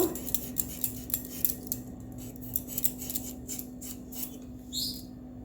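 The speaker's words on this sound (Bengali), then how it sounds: "এই আলুগুলো আমি প্রথমে কেটে নেব খোসা ছাড়িয়ে নেব" Potatoes being peeled and cut with a knife in a home kitchen, heard as a close run of short scraping strokes and light clicks at an uneven rhythm against a low background hum.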